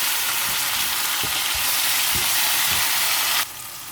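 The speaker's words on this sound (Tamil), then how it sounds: "தக்காளி பழத்தையும் போட்டு வதங்க விடுவோம்" Tomatoes sautéing with salt in a pan for fish curry, giving a loud, even sizzle with a few soft stirring knocks before the noise drops suddenly near the end.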